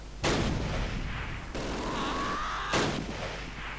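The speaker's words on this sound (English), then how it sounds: "Where's that coming from? Mortar shooting?" Mortar and gunfire in the World War II strategy game Close Combat: Last Stand Arnhem, with two sharp, loud blasts about two and a half seconds apart over continuous rumbling battle noise and a thin rising whistle between them.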